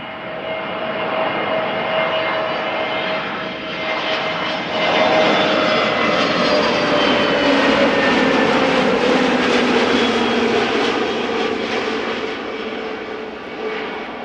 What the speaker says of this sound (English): Time for another EasyJet.